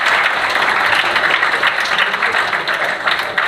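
Steady, dense applause from an audience at a school's Eid al-Adha religious lecture, clapping for the expedition students; close and sustained for the whole stretch, with no talk over it.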